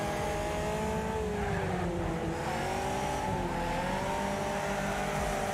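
Turbocharged, high-powered wide-body Mini Cooper engine racing in Wreckfest, a continuous loud droning rev that rises and falls in pitch with tire noise, no talk.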